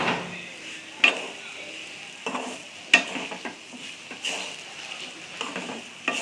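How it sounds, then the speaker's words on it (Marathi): Grated coconut for green chili chutney is sautéed and stirred in a pan, giving a faint sizzle with sharp spatula scrapes and taps at irregular intervals. "खोबरं चांगलं परतून घ्यायचं मस्त खोबरं चांगलं परतवलं ना"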